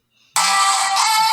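A K-pop phone ringtone starts abruptly after a faint lead-in and plays loud, bright and steady for about a second, with no talking over it.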